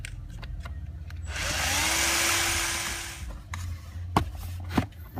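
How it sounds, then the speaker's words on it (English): A power drill with a bit spins to back out screws from an interior panel of a 2012 Mercedes E350, a single whirring burst of about two seconds that rises and then winds down, with clicks and handling knocks around it. "You need a bit that looks like this, and you will be undoing the screws."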